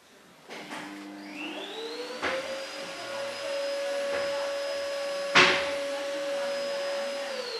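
Handheld hair dryer blowing on short hair during a pixie cut styling, a steady whirring drone switching on near the start and holding a constant pitch, with a brief bump partway through; no voices.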